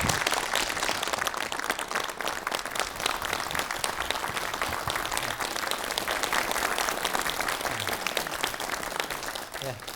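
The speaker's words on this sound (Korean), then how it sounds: "여러분 큰 박수 부탁드립니다." A lecture audience gives a sustained round of applause to welcome a university professor, dense crowd clapping that holds evenly for the whole stretch, with faint voices mixed in underneath.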